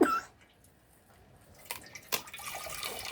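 Water from a freshly cracked coconut pours and drips at close range, opening with a brief knock, then a quiet gap before soft splashing trickles build.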